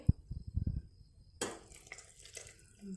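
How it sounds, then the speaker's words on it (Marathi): Hot water is poured into a soya chunk curry cooking in a pan, a splashy rush of liquid following a few soft knocks, all fairly quiet and close. "आता आपण थोडंसं गरम पाणी आई टाकत आहे"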